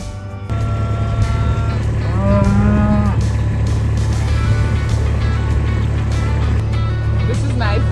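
Cattle low loudly and repeatedly while being moved to a new grazing paddock, a long moo rising over a steady engine drone, with a person calling nearby.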